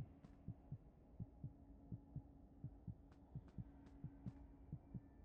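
Heartbeat in the video game Five Nights at Freddy's, a steady muffled double thump repeating about once a second over a low hum, faint and ominous, with a few brief clicks.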